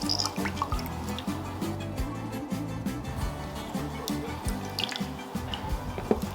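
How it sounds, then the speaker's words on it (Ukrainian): Juice dripping and trickling as a lemon is squeezed into an octopus marinade, small wet drips over a steady background of music. "видавлюємо сік з одного лимона."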